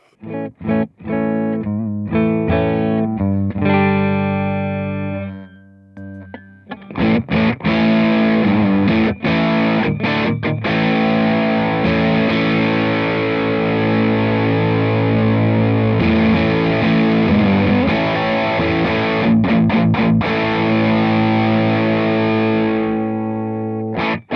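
An electric guitar rings out through a Way Huge Smalls Geisha Drive overdrive pedal into a clean amp, first picking notes and chords, then sustaining thick, gritty distorted chords loudly with no talking.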